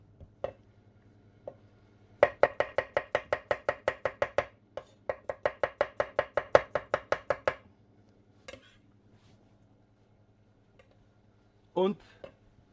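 Knife chopping radish on a cutting board, two quick runs of rapid, even cuts close by, followed by a few isolated knocks and a short rustle near the end.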